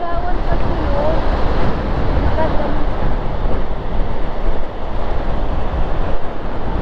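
Loud, constant wind buffets the microphone with roaring gusts in Aurora Province, and a distant surf-like rush sits underneath.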